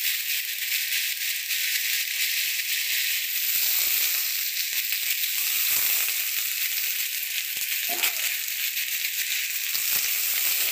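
Spinach hitting a hot pan with ginger, fennel seed and green chili paste gives a loud, close, steady sizzle and hiss, with a few soft rattles of stirring along the way.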